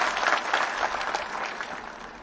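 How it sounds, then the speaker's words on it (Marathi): An audience claps at a felicitation gathering marking an election victory, producing a dense, steady round of close applause that holds throughout without voices. "आपण सर्वांनी मिळून त्यांच्यासाठी टाळ्या वाजूया"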